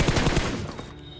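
Rapid automatic gunfire from a PUBG Mobile match as an enemy rushes across open ground, dense overlapping bursts loud and close in the first half, then tapering into quieter game ambience.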